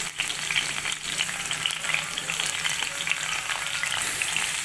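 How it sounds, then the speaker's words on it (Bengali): Cauliflower pieces frying in hot oil in a wok, a loud, steady close-up sizzle with continuous crackle and no voices. "এখন আমরা এই যে ফুলকপিগুলো ছেড়ে দিচ্ছি।"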